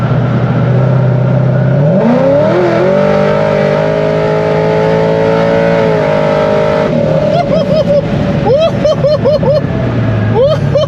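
A C6 Corvette fitted with a smaller supercharger pulley accelerates hard in traffic, its engine note climbing loud and close over several seconds, then settling into a steady drone with repeated rising shifts near the end.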